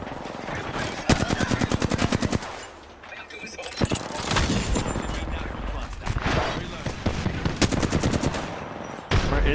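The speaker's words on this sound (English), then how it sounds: "They're shooting at me." Automatic weapons fire rattles in rapid bursts in an Apex Legends Season 8 firefight, loud and close, with short pauses and single shots between volleys while a player talks over the action.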